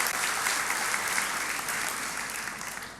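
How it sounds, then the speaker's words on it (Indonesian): Dense, sustained applause from a church audience fills the space, a loud continuous wash of many hands that slowly fades toward the end. "Kasih tepuk tangan tuh Tuhan."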